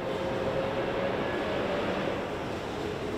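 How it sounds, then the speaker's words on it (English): Humvee engine rumbling steadily as it pulls up, a continuous broad droning roar with a faint whine, moderately loud and unchanging. "that is the sound of a Humvee pulling up."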